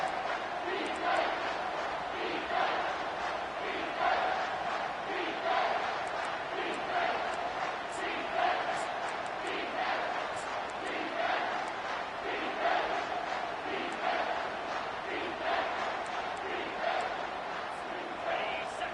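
Sustained crowd noise fills a large American football stadium, steady roaring and chanting that holds at a moderate level throughout as the home crowd urges its defense during a red zone stand.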